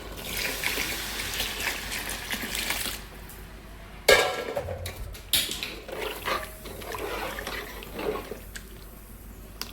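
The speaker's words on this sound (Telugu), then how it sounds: "ఇప్పుడు మనం చింతపండు పులుసు పోసేసుకుందాం" Tamarind juice poured into simmering sambar in a pot, a steady liquid splash with a few clanks of a vessel mid-way and continued pouring and bubbling afterward.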